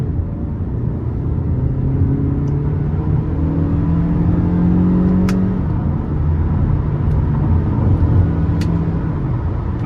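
Steady engine drone of a 2014 Toyota Camry SE with the 2.5 engine on a road test drive, revving with rising tones as gears shift in manual mode, continuous and close with road rumble underneath, no talking.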